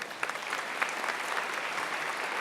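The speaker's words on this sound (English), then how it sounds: "Give them another round of applause." Audience applause at a scholarship fund ceremony, a steady wash of many hands clapping that holds even and fairly loud for the whole stretch, with a few sharper individual claps standing out early.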